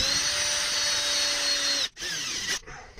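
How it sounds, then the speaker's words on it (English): A power drill whines steadily at high pitch while boring through the aluminum lip and stainless steel channel of a solar panel on an ambulance conversion, then briefly stops and restarts. "So you have to drill through both of them."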